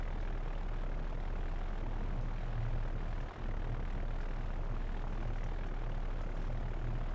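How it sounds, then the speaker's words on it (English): Lone bomber flying high over Hiroshima in the Victory at Sea Pacific video game, its engines a dense, unbroken drone that fills the scene at a steady loud level, with no voices. "Seriously, it's just one lonely bomber."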